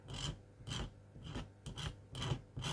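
A blade held flat is scraped back and forth along a strip of plasticard while making a model weighbridge building, producing about five close, rasping strokes in a steady rhythm with no speech.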